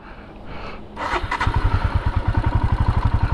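A motorcycle engine starts on a mountain road near Mayodia Pass after brief rustling, then settles into a loud, steady, rapidly pulsing idle close by.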